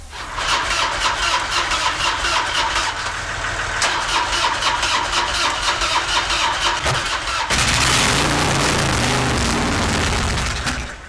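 A motorbike engine runs as a loud, steady mechanical drone close by, then surges into a harsher, louder roar partway through and keeps running until it cuts off at the end, with no talking.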